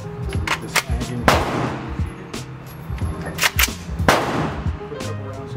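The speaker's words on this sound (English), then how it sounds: "Put a couple rounds down range so you guys can see with the stock hold." Several loud gunshots from a Foxtrot Mike FM-15 Gen 2 buffer-less folding rifle fired with the stock folded, sharp cracks spaced irregularly with ringing echoes between them, close by.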